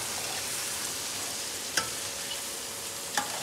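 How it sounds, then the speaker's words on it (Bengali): Duck curry being stirred and sautéed in a pan over lowered heat, a soft steady sizzle with two distinct scraping clinks of the spoon against the pan, quiet and close, with no voices. "সিমটা একটু কম করে দিয়ে আমরা নেড়ে চেড়ে এটাকে কষাচ্ছি"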